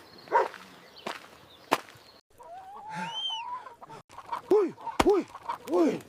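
A cartoon chicken clucks several times up close in short rhythmic bursts, mixed with sharp knocks and a drawn-out call.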